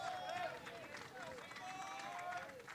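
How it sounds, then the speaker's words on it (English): A home crowd at a college baseball game in the NCAA Mideast Regional, W&J against SUNY-Cortland, gives a steady distant cheer and murmur of voices, with a few whistles rising above it. "the home crowd here now rallying the troops as well"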